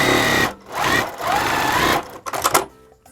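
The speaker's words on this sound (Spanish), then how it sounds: "Ahora lo coso por el otro lado, igual del centro hacia abajo." Sewing machine stitching a seam on a baby kaleidoscope patchwork quilt, loud close bursts of rapid mechanical whirring with brief pauses between runs, ending in a few short stitches.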